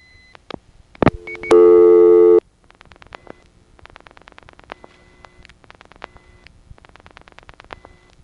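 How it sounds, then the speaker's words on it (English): Rapid bursts of sharp telephone exchange switching clicks on a phone line during a call, irregular and fast, with a short steady tone early on and a couple of louder clicks. "Listen to the clicky noise on this call."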